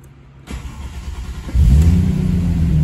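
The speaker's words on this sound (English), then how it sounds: "let's go ahead and give her a quick test fire, see if the gauges work" Toyota Aristo with a 1.5JZ engine on a dyno fires up: a click and starter whir, then the engine catches and settles into a loud, steady, close rumble.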